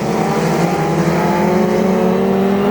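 Banger racing vans roaring around Bovingdon Raceway with a loud, sustained engine drone and rising revs as they battle for position on an oily track.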